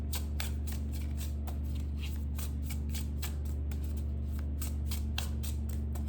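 Oracle cards are shuffled by hand in a steady run of quick riffling flicks and slaps, close and clear over a low constant hum, with no talking.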